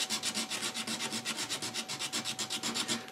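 A file rasps back and forth across a wooden Cellini Canadian pipe tenon during restoration, about twenty quick, even strokes in a steady rhythm, close and fairly quiet with a faint constant hum behind.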